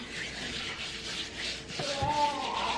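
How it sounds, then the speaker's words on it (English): Soft, continuous rubbing and squishing as glaze and crushed cherries are worked into a ham by hand in a home kitchen, close and fairly quiet, with a faint squeak near the end. "I'll start crushing up some of these cherries too that are on top, really soaking it in. I did just say cherries. And I'm just gonna rub this in just like that."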